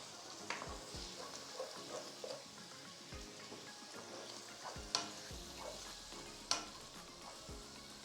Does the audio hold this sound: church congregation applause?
no